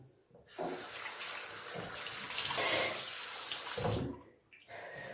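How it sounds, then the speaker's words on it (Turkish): Tap water runs steadily from a faucet into a sink as an item is rinsed before face washing, a close, moderately loud splashing flow that swells midway and then stops. "Şunu sudan geçirin. Temiz dursun ve yüzümü yıkayacağım."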